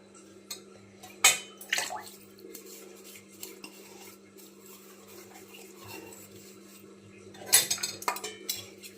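Dishes clatter and clink against each other as they are washed, with a steady low hum underneath and two louder bursts of clanking.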